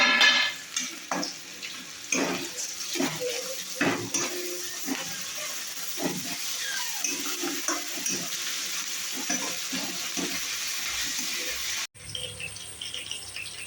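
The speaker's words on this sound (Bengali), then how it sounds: "এখানে আমার পেঁয়াজ আদা রসুন ভাজা হয়ে গেছে।" Onion with ginger and garlic paste fries in a pan for matar paneer, sizzling continuously while a utensil stirs and scrapes in repeated bursts, close and fairly loud, with a short break near the end.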